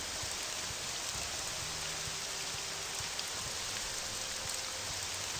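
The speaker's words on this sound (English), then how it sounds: "I'd maybe camp for the night if it wasn't raining so much." Steady rain pours down in The Elder Scrolls: Legacy, a dense, even hiss of drops on the ground that holds constant throughout, with faint low ambient game tones beneath.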